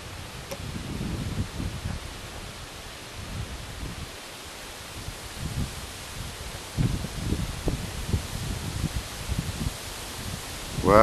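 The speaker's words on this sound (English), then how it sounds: "Wow, it's real windy up there." Strong, gusty wind buffets the microphone at an RC flying field during a Zohd Drift maiden flight, producing uneven low rumbling bursts over a constant airy hiss.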